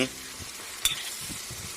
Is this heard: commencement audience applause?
no